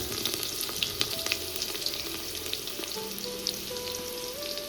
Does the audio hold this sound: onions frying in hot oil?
yes